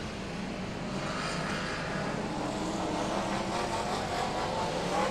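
BriSCA Formula 1 stock cars racing at Long Eaton in October 1994, a dense, steady roar of many engines from a field of cars, loud and continuous with no talk over it.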